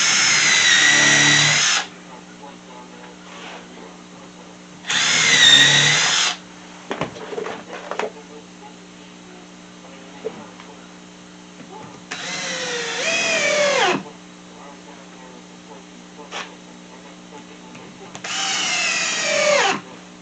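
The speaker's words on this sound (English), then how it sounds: "we're going to pre-drill since we're closer to the end to keep it from splitting" A power drill pre-drills into wood in four loud bursts of about two seconds each, with quiet pauses and faint handling noises between them.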